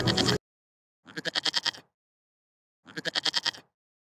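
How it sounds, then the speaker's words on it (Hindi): A goat herd in a cartoon story bleats in two clear, wavering calls, each a rapid quavering series, separated by silence after a brief loud opening burst; loud and close. "इन बकरियों के झुंड में मुझे एक बकरी कम लग रही है।"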